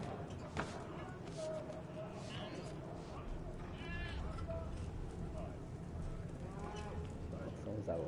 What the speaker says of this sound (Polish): Kozy, świnie, owce.